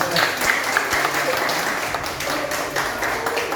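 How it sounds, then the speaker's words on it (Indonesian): Children clapping their hands in a classroom learning session, a brief burst of mixed claps with some voices and chatter underneath, moderately close. "Oke, bagus, tepuk tangan."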